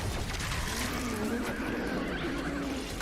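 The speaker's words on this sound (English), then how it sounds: "Why did it sound like a horse?" A demon in the DOOM video game gives a horse-like neigh, a wavering, whinnying cry that rises and falls for about two seconds over steady game noise and rumble.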